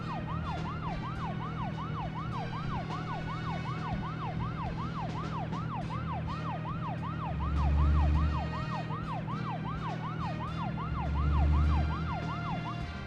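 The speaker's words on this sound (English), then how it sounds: "Using our siren does make the car go a little bit faster." A car siren in the video game Deadly Premonition wails continuously in a fast rising-and-falling cycle over a steady engine drone, loud and unbroken.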